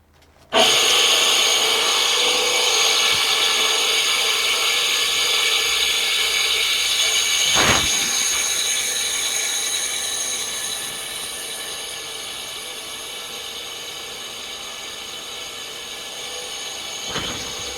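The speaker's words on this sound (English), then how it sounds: "let's pick the grinder up and see what we get." A bench grinder sharpens a metal drill bit, a steady broadband grinding hiss running nearly the whole time at close range, easing slightly toward the end, with a short sharper scrape midway and another near the finish.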